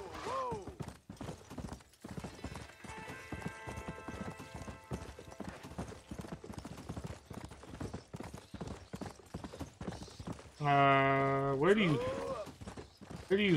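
Rhythmic horse hooves clip-clop steadily in the video game Red Dead Redemption: Undead Nightmare, with game music and a horse whinnying loudly near the end, all fairly faint and close.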